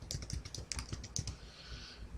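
Fingers type a username and password on a computer keyboard in a rapid, uneven run of soft close clicks, tapering into quiet after about a second and a half.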